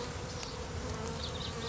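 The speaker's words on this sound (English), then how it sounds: "And I'm starting to have some bees come up through the frames." A honey bee swarm moving into a hive box, entering through the frames and front entrance, gives a steady, dense buzzing hum that holds evenly throughout, fairly quiet and with no voices.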